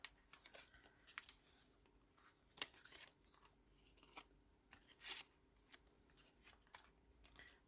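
Paper being cut with scissors for a paper bag album: faint, close snips and crisp paper rustles in irregular bursts against a quiet room.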